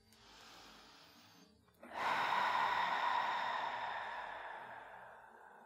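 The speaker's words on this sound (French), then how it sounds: "on retourne à prendre des grandes respirations au niveau du ventre" A slow, deep belly breath during a gentle yoga session for breast cancer recovery: a soft, airy inhale, a brief pause, then a longer, louder, steady exhale that gradually fades, close and alone.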